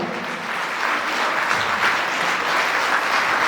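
Warm, continuous applause fills a concert hall as the audience honours a teacher, loud and steady from start to finish, with many hands blending into one dense roar and no speech.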